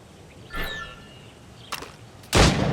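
Gunfire at practice targets in the video game Assassin's Creed Rogue: a few sharp, separate shots, one near 0.5 s, a smaller crack near 1.7 s and a louder blast near 2.4 s, alone with no talk.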